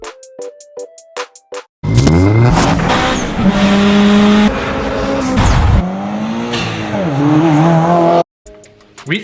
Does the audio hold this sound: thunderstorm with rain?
no